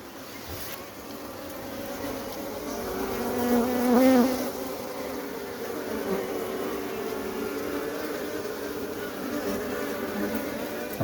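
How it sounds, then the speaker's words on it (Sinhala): Honey bees hum inside a colony box during a hive split for colony breeding, a steady close drone of many wings that swells briefly and continues unbroken, with no talking. "බලමු දැන් මේකේ මැස්සෝ කොච්චර ප්‍රමාණයක් ඉන්නවද කියලා."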